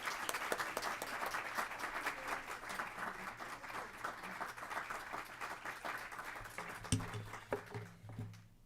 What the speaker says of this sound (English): please help me give an incredibly warm welcome of applause for Congresswoman